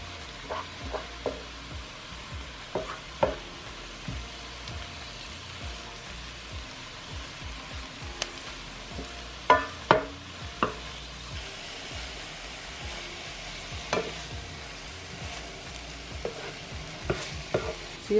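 Tuscan chicken ingredients fry in oil in a pan, with a low steady sizzle broken by scattered scraping and clinking stirs of a utensil, close up and without talk.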